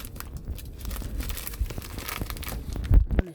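Ceiling fan box being opened by hand, with plastic packaging crinkling and rustling in irregular bursts and a few louder crunching handling noises near the end, close up.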